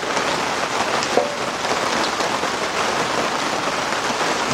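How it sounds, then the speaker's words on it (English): Steady rain falling outdoors during engine repair on a 2006 Kia Sportage EX 2.7, a dense continuous patter of drops hitting surfaces, close and even throughout with no talking. "Boy, this rain sucks."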